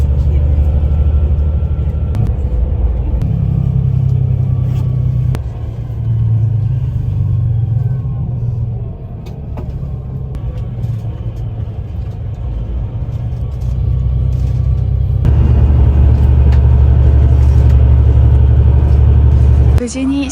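Interior rumble of a night bus driving in Morocco, a steady loud low engine drone with shifts in pitch as it changes speed, brief quieter dips, then a heavier roar near the end.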